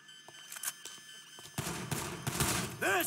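Gunfire in GTA V, scattered shots early and then a dense volley of rapid shooting, fairly close, with a faint voice briefly audible.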